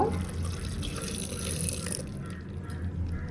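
Water poured from a tap into a pressure cooker holding beetroot and carrot: a steady running, splashing stream for about two seconds, then fading to quieter drips and trickles.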